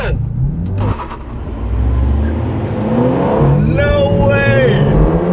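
A Civic Type-R, AMG A35 and Mini Clubman JCW launch together on an airport runway, engines roaring and rising in pitch as they accelerate, with excited voices shouting over the noise.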